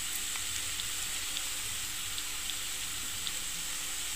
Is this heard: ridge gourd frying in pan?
yes